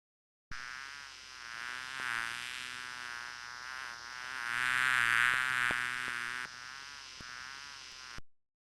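Honeybees buzz in a continuous droning hum that swells louder in the middle and then fades, close and steady with no voices.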